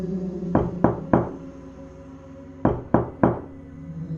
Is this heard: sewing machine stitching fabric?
no